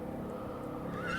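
A horse recently brought from Texas whinnies, its rising call standing out toward the end over a steady bed of low rumbling background noise.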